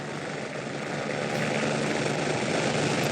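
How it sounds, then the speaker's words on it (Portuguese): A helicopter drones steadily over a rescue site, a continuous rotor and engine roar that holds at moderate loudness throughout, with no talk over it. "Você vê que há um barulho de helicóptero."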